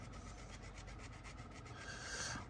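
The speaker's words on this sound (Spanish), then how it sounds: "pondremos la lima inclinada y lijaremos" Steady rasping strokes of a file against a scale model M109 self-propelled howitzer part, continuous and close, with a slight rise in intensity near the end.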